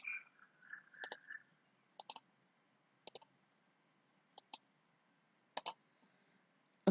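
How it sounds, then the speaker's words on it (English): Sharp, quiet mouse clicks, mostly in quick pairs, come at spaced intervals over near silence while a computer mouse is right-clicked during payroll software coding. "Right click fit section."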